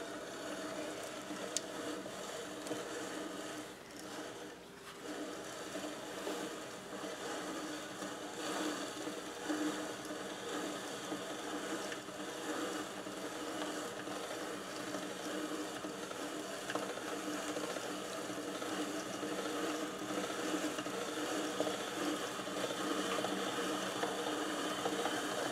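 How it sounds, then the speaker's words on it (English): A hand-cranked pasta machine rolls thin spaghettini noodles: a continuous mechanical clicking and whirring of the gears that stays steady and close for the whole stretch, with no voices. "you just feed the entire length of the noodle and crank"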